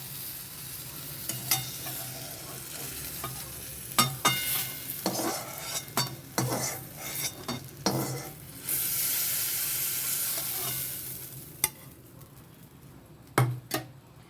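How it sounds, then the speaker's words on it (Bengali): Pointed gourd (potol) sizzles in oil in a pan while a metal utensil stirs and scrapes it, with sharp clinks and knocks over a continuous frying hiss and a stretch of louder sizzling in the middle. "পটলগুলো আমার প্রায় ভাজা ভাজা হয়েই গেছে"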